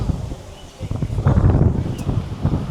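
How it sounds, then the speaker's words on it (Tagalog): Gusty wind buffets the microphone in loud, rumbling surges at a temple in Ngong Ping village, Hong Kong, with rustling outdoor noise and no clear talk. "Medyo mahangin kasi."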